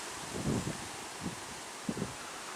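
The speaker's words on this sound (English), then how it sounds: "It's very windy and cold out here." Gusty wind buffets the microphone outdoors, with rustling swells that rise and fall in a few soft bursts over a steady rushing background.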